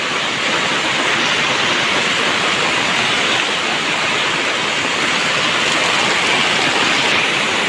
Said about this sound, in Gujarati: ભાદરવાનો વરસાદ છે